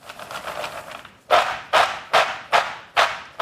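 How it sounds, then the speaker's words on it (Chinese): Cooled oil-fried peanuts are shaken in a flat tray: a softer rustle first, then about six sharp, evenly spaced rattling bursts of crisp kernels, close and loud. "这个油酥的也已经冷却了，大家还是听一下声音"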